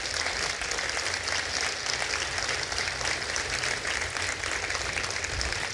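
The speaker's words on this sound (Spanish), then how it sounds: "¿Cuántos dan palmas de alabanza al Señor?" A church congregation claps in praise of the Lord during a service, dense sustained applause throughout, loud and continuous with no break.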